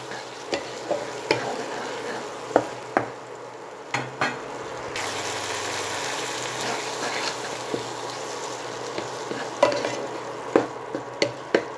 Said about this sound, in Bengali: এইবারে হিট কমিয়ে রেখে 3 থেকে 4 মিনিট আমি মশলাটাকে ভালোভাবে কষিয়ে নেব